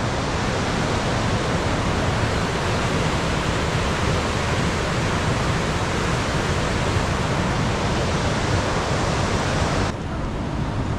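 Steady broadband rush of a river flowing through Aru Valley, loud and continuous with no pauses, heard up close, the wash of water filling the scene alone until it drops off suddenly near the end.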